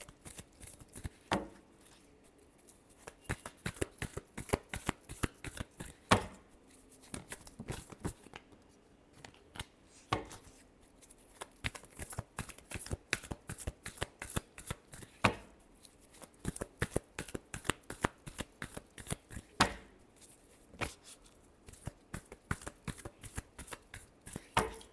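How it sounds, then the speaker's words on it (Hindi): Tarot cards being shuffled by hand, rapid papery riffles and slaps in quick bursts with brief pauses between, close and crisp, no talking. "last shuffle"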